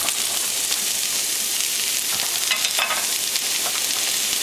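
Chopped onion and about 100 grams of mushrooms fry in sunflower oil in a pan, giving a loud, close, unbroken hiss with a few brief stirring rustles and no talking.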